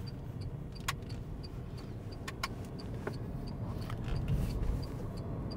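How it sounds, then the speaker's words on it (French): A car's turn signal indicator ticks in a steady, regular rhythm of faint clicks inside the cabin, over low road and engine rumble from an automatic car on a driving test route near Tours. "Et je mets mon clignotant"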